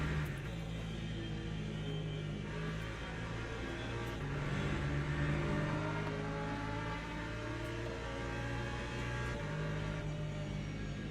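Racing engine noise from the Le Mans Ultimate sim during a WEC championship race, with an LMP2 prototype roaring past: a steady, loud, layered drone of cars under constant throttle, with gear-shift steps and no talking.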